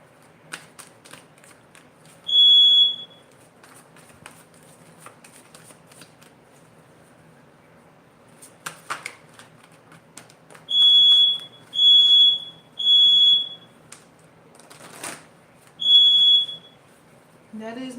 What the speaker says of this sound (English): That is my smoke alarm.